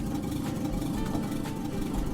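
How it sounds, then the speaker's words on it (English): An idling car engine runs in The Long Drive, a driving video game, a steady low rumbling drone at constant level throughout, with no speech over it. "Oh, hang on, I left the engine on."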